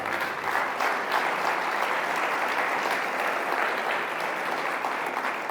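A church congregation applauds in a sustained, even wash of many hands clapping at once, fairly loud and continuous with no talk over it.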